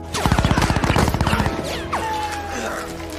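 A rapid, close burst of automatic gunfire from a Fast and Furious film action scene with soldiers, a loud stuttering volley for about a second and a half, followed by whooshing and a lingering ringing tone.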